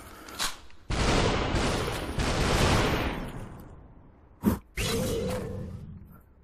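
Gunfire in the VR game Superhot, with several loud, broad bursts of shots separated by short pauses and a sharp whoosh between them.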